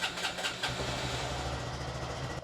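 A written-off Honda Grom motorcycle from auction, its small engine turning over and catching, then running with a steady, rough mid-pitched putter at close range.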